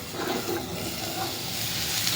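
Potatoes fry with spices in hot oil, giving a soft, continuous hiss and sizzle at close range for a couple of seconds.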